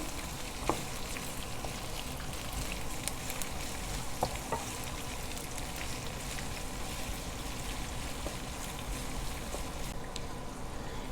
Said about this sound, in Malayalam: ഇനി നമുക്കിതിലേക്ക് അരിഞ്ഞു വെച്ചിരിക്കുന്ന രണ്ട് സവോളയാണ് ചേർത്ത് കൊടുക്കുന്നത് അപ്പോൾ ഇതൊന്ന് നമുക്ക് നന്നായിട്ട് വഴറ്റിയെടുക്കാം